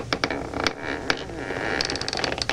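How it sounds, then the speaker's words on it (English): Wooden floorboards creak faintly in a quiet house at night, a string of small irregular creaks and clicks over soft background hiss, with no voices. "It might be a floor creak"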